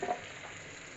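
Onions and green chillies frying in a pan with panch phoron for an onion curry, a steady close sizzle with a brief stirring scrape at the start, no voices.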